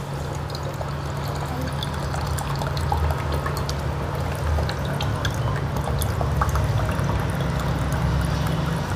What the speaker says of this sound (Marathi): तर आता हे नारळाचं मी पाणी काढते